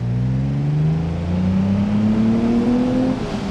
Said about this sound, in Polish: No, naprawdę świetnie brzmi ten samochód.